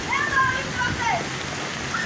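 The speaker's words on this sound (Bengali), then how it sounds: "তাড়াতাড়ি যা, বৃষ্টি পড়তে ধরে।" Rain falls in a steady hiss, close and fairly loud, with brief high voices over it.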